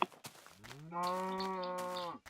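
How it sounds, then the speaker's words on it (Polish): A single drawn-out cow moo from the video game Minecraft, clear and prominent against quiet background, lasting over a second after a few faint clicks. "tu widzę same krowy"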